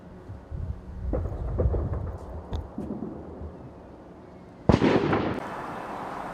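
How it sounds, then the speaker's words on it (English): Several loud booming blasts of gunfire and air defense with sharp cracks, first in a cluster and then one heavy burst near the end, echoing over a rumbling background, in Ukraine. "As I hear gunfire, I hear air defense, rockets, the Shahi drones flying over me."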